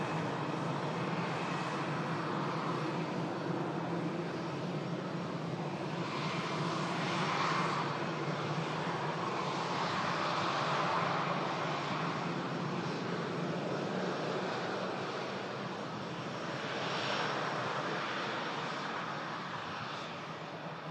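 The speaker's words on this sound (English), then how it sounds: "Aircraft about to touch down." Airliner on final approach about to touch down, its engine roar steady and loud throughout, swelling slightly a few times as it passes near, with no talk over it.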